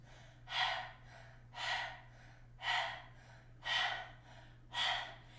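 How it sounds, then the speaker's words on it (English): Panting breath of fire with the tongue out during a kundalini kriya for the glands, done lying down: five rhythmic breathy exhalations about a second apart, soft and close, over a low steady hum. "let's start by sticking our tongue out of our mouth and begin to pant"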